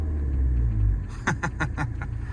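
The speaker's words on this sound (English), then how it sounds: "It's a diesel, so it's not going to sound amazingly exciting, but look, how's this for cool? When I rev it" A 2016 Mini Cooper Clubman with a 2.0 diesel engine and automatic gearbox gives a deep, close engine rumble that swells briefly. A quick series of sharper pulsing bursts follows as the sound settles.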